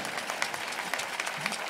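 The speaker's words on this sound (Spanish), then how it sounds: "Venga, un aplauso, si es que se lo merecen." Faint, steady audience applause at a summer festival dance performance by a folk dance group, continuous light clapping heard alone at a distance.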